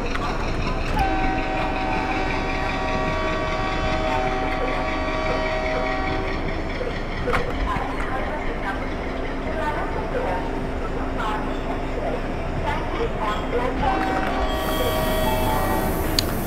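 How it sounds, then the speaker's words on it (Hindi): A WDM3A diesel locomotive slowing in the Open Rails train simulator while on shunting duty at Vadodara Junction, its engine drone and rolling wagons sounding continuously and loudly, with a horn-like tone near the end. "हम लोग अभी इस ट्रेन को स्लो करेंगे।"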